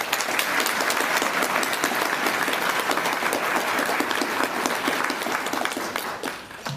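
An awards ceremony audience applauds steadily, dense clapping from many hands filling the room at an even level before tapering slightly at the end, with no talk over it.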